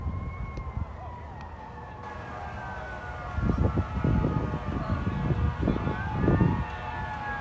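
Emergency siren wailing in steady rising and falling tones as a fire department vehicle approaches a massive vehicle collision near Keystone Avenue and 25th Street, with traffic rumble building underneath and a voice speaking over it.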